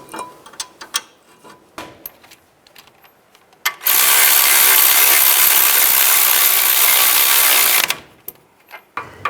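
A few ratchet clicks, then a loud power tool runs in one sustained four-second whir as front brake caliper bracket bolts are driven in on a 2005-15 Nissan Xterra, followed by more ratchet clicks, close and with no talk.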